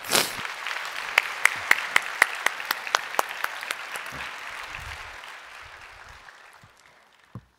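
A Korean church congregation claps to welcome a deacon coming forward to give a testimony, a full burst of applause with a few louder sharp claps standing out, gradually fading toward the end.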